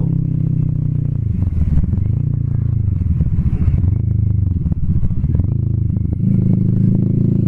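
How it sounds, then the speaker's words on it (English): Engine note of a Kawasaki Vulcan S 650 Cafe ABS 650cc cruiser on the move, loud and continuous, its pitch dipping and climbing through shifts, with wind buffeting and brief clattery knocks. "I am very impressed with this motorcycle"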